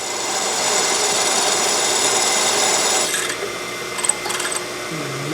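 A drill press bores a hole in metal in a home shop while building a Briggs & Stratton buckboard flyer, giving a steady loud grinding hiss for about three seconds before it drops to quieter scraping and a few light clicks.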